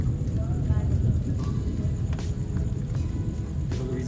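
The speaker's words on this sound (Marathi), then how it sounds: "मंडळी, आवाज बघा गडगडताना." Low thunder rolls through heavy rain pouring over a Konkan village during a lightning storm, a dense, steady roar of rainfall with the rumble held low and continuous underneath.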